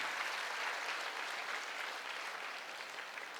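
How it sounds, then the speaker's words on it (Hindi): An audience at a Jasan-e-Awadh event in Lucknow breaks into loud, sustained clapping, a dense crowd of hands that carries on steadily and eases off slightly toward the end. "एक जोरदार तालियां होनी चाहिए"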